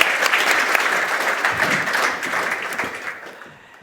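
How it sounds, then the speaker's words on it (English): Audience applause fills a room at the annual meeting of the Swiss Finance Council, a steady dense clapping that holds for several seconds before thinning out and fading near the end. "Let's give them a very warm round of applause."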